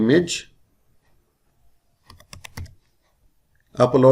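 Keystrokes on a computer keyboard as a web address is entered in a browser: a short burst of close, crisp clicks between stretches of speech.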